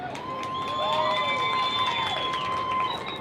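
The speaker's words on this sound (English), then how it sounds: "Everyone claps on this side." Spectators at a youth football game, a crowd cheering and calling out with shouting children, plus whistle-like tones and some clapping, moderately loud and sustained.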